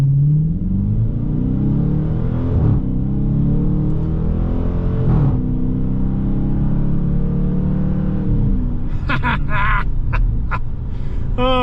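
A 2023 Dodge Challenger R/T with the T/A package accelerates hard in sport mode, its engine roaring low and rising through gears with brief dips at shifts, then a whoop and loud excited voices near the end.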